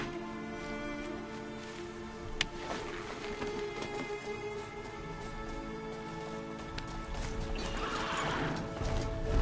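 In the video game Horizon Zero Dawn, a horse whinnies while hooves clip-clop along steadily, with faint rain-like patter in the background and a rising gallop toward the end.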